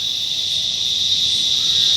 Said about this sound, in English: We're filming inside today because of how noisy the cicadas are outside.